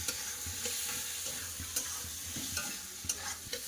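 Spices and green chilli fry quietly in a pan, the soft sizzle punctuated by quick, irregular clicks and scrapes of a spatula stirring, close by and low in volume.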